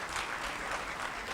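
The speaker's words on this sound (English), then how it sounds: "Once more, let's give them a round of applause" An audience applauds a choir at a summit event, a dense wash of many hands clapping at once, steady and fairly loud throughout the short moment.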